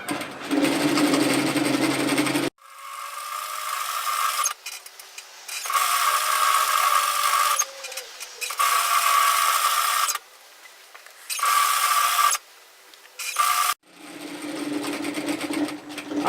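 A sewing machine stitches a dress seam in several loud, whirring bursts separated by short pauses, close up and steady, with no talking over it.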